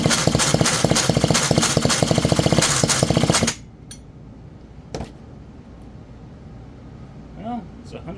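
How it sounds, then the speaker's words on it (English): A Pioneer farm saw engine is pulled over for a compression test and gives rapid, loud chugging pulses for about three seconds. It then stops, leaving faint handling noises and quiet sounds nearby. "I'm going to do a quick compression test"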